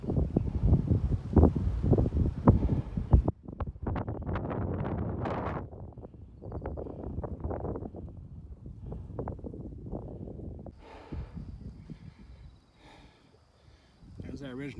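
Strong wind gusts on an exposed ridge hike in Moanalua Valley, roaring into the microphone in steady buffeting bursts while a person talks throughout.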